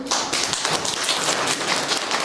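Applause from an audience at a primary school performance by first-year pupils, a dense, steady patter of many hands clapping close by, continuing without a break and with no voices.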